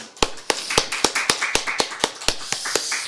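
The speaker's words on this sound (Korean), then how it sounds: "우리 이 아침에 함께 하신 주님께 감사의 박수 올려드리겠습니다" A church congregation at a morning worship service claps in thanks, loud, steady, evenly spaced claps repeating roughly three times a second in a reverberant hall, with no talking.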